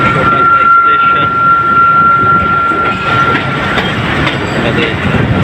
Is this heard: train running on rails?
yes